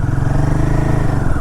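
A Royal Enfield Himalayan 450 motorcycle riding up a ghat road in third gear, its loud, close engine making a steady low thumping drone with no voices.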